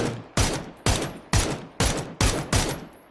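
Six or seven heavy gunshots fire at a steady, spaced rhythm, each a loud sharp crack with a short decaying tail, gunfire in the video game PUBG.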